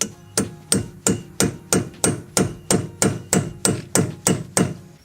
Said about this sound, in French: Je vais venir avec une tige. Je vais lever l'arrêt de l'écrou parce que là, il y a un arrêt. Je viens taper.